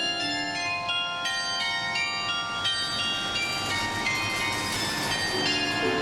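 Steady rumble of a tram rolling along a street, with a bright ringing bell tone repeating over the continuous noise.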